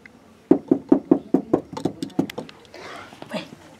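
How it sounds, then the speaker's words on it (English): A rapid run of about ten knocks on a door, loud and close, which slows and fades into scuffling, with no talk over it. "I wish someone could just knock on the door in a few seconds"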